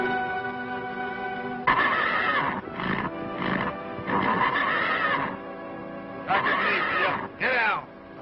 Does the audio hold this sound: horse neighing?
yes